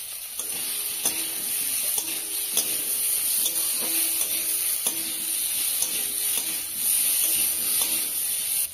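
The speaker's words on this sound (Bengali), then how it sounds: "শুকনো লঙ্কার গুঁড়ো দিয়ে কিছুক্ষণ নাড়াচাড়া করার পর আমি জল দিয়ে দেবো।" Potatoes frying in a pan with dried chilli powder while being stirred, a steady hissing sizzle broken by regular clinks and scrapes of a spatula, close and alone without voices.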